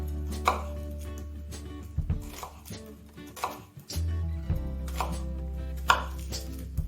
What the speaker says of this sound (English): I'm going to cut a few slices like this